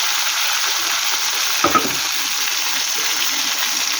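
Tomato and chopped green chili fry in a pan with an even, close hiss, while a single brief scrape of stirring breaks in midway; no talking.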